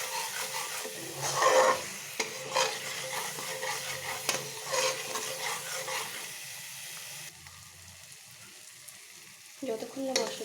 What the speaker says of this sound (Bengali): যতক্ষণ না মশলাটি তেল ছাড়ছে ততক্ষণ আমি ভালো করে কষিয়ে নেব